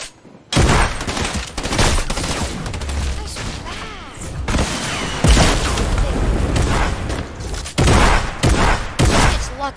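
Rapid bursts of video game gunfire fill the stretch, loud and close, with repeated volleys separated by brief pauses and a dense, crackling spread across the clip.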